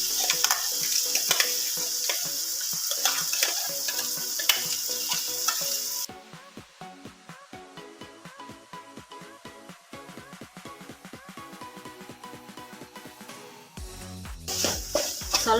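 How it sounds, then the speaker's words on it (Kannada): A spatula stirs and fries masala for a watermelon rind curry in a pan, with a steady sizzle and rhythmic scraping strokes, close and clear, then a brief burst of water near the end. "ಎಲ್ಲವನ್ನು ಚೆನ್ನಾಗಿ ಮಿಕ್ಸ್ ಮಾಡಿಕೊಂಡು ಫ್ರೈ ಮಾಡ್ಕೊಳ್ಬೇಕು."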